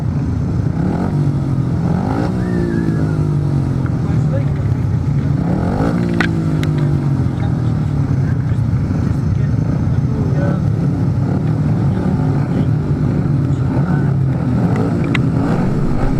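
Grasstrack racing motorcycles revving before a semi-final, a steady roar of engines with a couple of rising revs, loud and continuous throughout over outdoor background noise.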